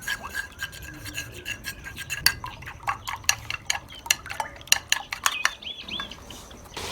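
Eggs whisked briskly in a bowl for crispy fried cauliflower, with quick irregular clinks and scrapes of a utensil against the bowl, close and fairly quiet, with no talking.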